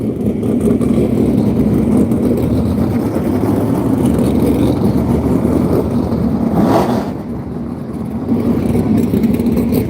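Outlaw sprint cars lap a dirt track in Texas to pack it in, their engines a loud, continuous roar that dips briefly as a car passes, then swells again.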